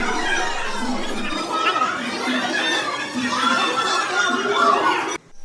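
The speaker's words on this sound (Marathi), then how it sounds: "मंदिरात एक सहल आली होती त्यामुळे थोडी गर्दी झाली" A crowd of school trip visitors packs the Mahabaleshwar temple queue, with a busy murmur of overlapping voices, children's chatter and occasional laughter that fills the space evenly before cutting off abruptly at the end.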